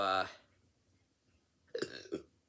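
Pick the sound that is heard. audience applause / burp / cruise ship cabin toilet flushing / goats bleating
burp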